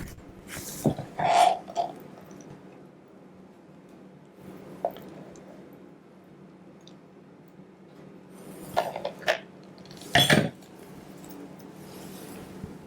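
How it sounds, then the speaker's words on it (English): Scooping chocolate cherry nice cream into a container: a few soft, squishy scrapes and thuds in short bursts, close by, separated by quiet stretches over a low hum. "I'm going to scoop it into here."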